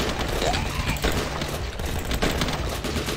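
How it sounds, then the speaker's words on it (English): In the video game The Last Stand 2, a hunting rifle fires amid dense, continuous gunfire and mechanical clatter, loud and busy throughout, as zombies keep coming. "this hunting rifle is so OP"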